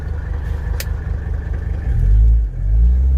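A Mercedes-Benz 300TD W123 diesel idles roughly after a blown hydraulic line, making a close, low, uneven rumble that swells louder near the end of the short stretch.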